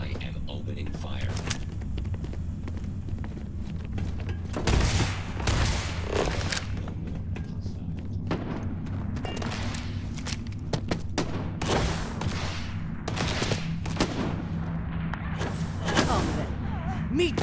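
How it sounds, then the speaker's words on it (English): Gunfire erupts during combat in the space game Starfield: repeated sharp bursts and booming shots in irregular volleys over a constant low hum, with a voice talking amid the shooting. "I am opening fire."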